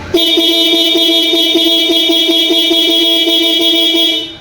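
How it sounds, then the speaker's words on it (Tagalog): A Yamaha YTX125 motorcycle horn blares in one long, loud, steady honk lasting about four seconds, with a faint pulsing buzz in its tone. "Busina po tayo mga boss"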